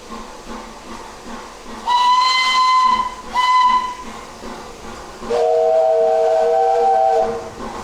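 Steam locomotive Tornado standing at a station with its blower on, giving a steady loud hiss broken by two strong whistle-like blasts early on and a longer tonal blast later, all close and with no talk.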